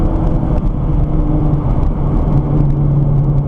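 A Nissan GTR on a race track, a loud, continuous engine rumble and drivetrain whir heard from inside the car, steady throughout with no speech.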